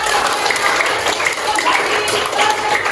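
A sixth-grade class of schoolchildren claps together in a classroom, giving a dense, continuous patter of hand claps at steady volume with no pause.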